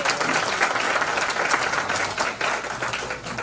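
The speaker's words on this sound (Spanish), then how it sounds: "les pido un aplauso para Jairo Kropatowski" A crowd at a Colombian campaign event on disability applauds an honoree, giving dense, continuous clapping at an even, moderately loud level for the whole stretch.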